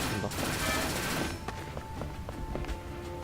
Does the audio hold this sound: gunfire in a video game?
yes